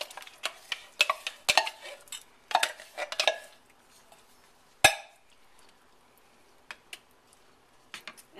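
Three cans of tomato sauce and a can of chili beans are added to a cooking pot, heard as scattered metallic clinks, can taps and scraping knocks, with a sharp clatter near the middle and quiet gaps between.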